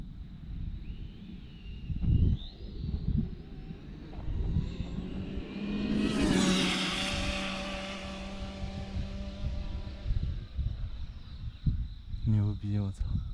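Hong Nor X3GT 1/8-scale 8S RC car on a full-throttle speed run, a high motor whine rising sharply and sweeping past at a distance before fading, with people's voices near the end.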